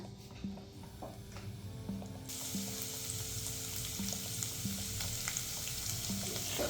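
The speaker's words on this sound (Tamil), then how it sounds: "இது நல்லா வதங்கட்டும்" Steady oil sizzling as chopped ginger and garlic sauté in a pan, with occasional light clicks of stirring; the frying grows a bit louder midway.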